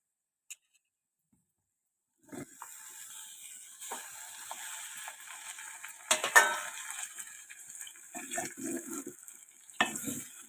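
Tomatoes stirred into a frying brinjal and potato curry, the spoon scraping and clanking in the pan over a soft sizzle, with a louder clatter midway and intermittent stirring after a quiet start.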